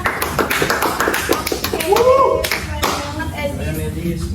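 Students in a classroom clap in a quick run of sharp, close claps, with children's voices and chatter mixed in around them.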